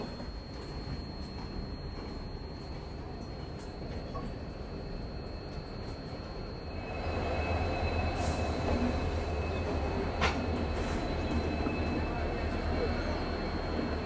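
Avadh Assam Express train arriving at Katihar Junction railway station in India, a steady rumble of wagons and wheels that grows louder halfway through, with faint squeals and occasional clanks, heard from onboard.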